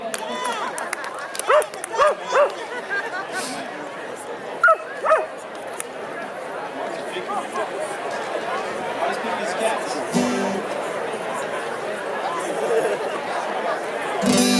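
A dog yips and barks in short bursts amid a chattering crowd at a live band performance in Winter Park, Colorado, with whimpering yelps rising over the steady background voices.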